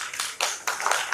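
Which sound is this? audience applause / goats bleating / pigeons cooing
audience applause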